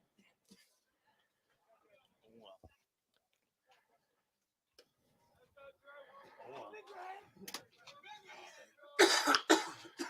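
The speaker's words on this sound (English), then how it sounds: "Sorry, I'm coughing." A commentator at a high school baseball game gives a few faint throat clears and coughs amid quiet background, followed by louder, harsher coughing bursts near the end, partly mixed with speech.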